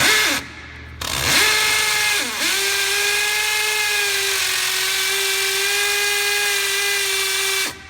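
DeWalt DCD996 brushless 3-speed drill in hammer mode, running loud and close with a steady high whine and hammering buzz that spins up, dips briefly, then holds for several seconds before cutting off.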